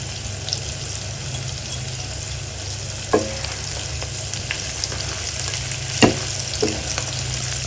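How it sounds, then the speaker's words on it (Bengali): Fish fries in oil in a pan, seasoned with Kashmiri chili powder, as it is turned over. A steady close sizzle runs throughout, broken by a few sharper clatters and spatters as the pieces are flipped, with no voices. "এখন এই মাছটাকে আবার এই পাশ থেকে উল্টে দিচ্ছি"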